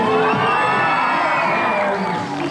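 Crowd cheering and whooping at a 1998 skateboarding competition in Asia, a loud, sustained roar of many voices with high shouts over it, holding steady throughout and easing slightly near the end.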